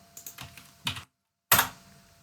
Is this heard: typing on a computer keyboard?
yes